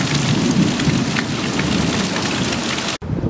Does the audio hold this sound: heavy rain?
yes